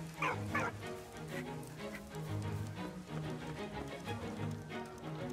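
A dog in Valiant Hearts gives a couple of quick barks early on, then faint whimpers beneath steady game music, fairly quiet overall.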